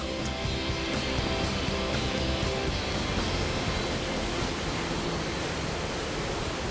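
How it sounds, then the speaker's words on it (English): Loud, steady roar of tidal water rushing out of a Scottish sea loch through the Falls of Lora rapids, a continuous broad wash of noise with no voices. "as the tidal waters rush out of the loch, it gets very, very loud"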